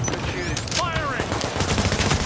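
Gunfire from Tom Clancy's The Division bursts through a dense game soundscape, rapid shots cracking over rumbling background noise and music, with a voice briefly calling out among them.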